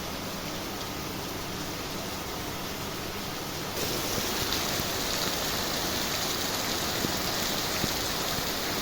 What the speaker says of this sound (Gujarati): કેટલો બધો વરસાદ આવે